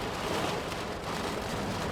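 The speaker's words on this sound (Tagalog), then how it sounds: "Ayun na, bumuhos na ng malakas na naman." Heavy rain pours down steadily during a typhoon in Ilocos, a dense, unbroken roar of hiss with no pauses or voices.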